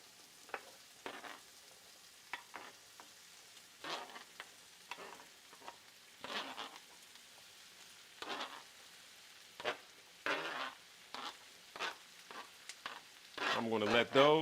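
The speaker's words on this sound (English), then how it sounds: "I'm going to let those saute for a few seconds." Squash sautéing in a pan, a soft steady sizzle with spaced scrapes and stirring sounds, louder frying toward the end, and a voice briefly heard at the close.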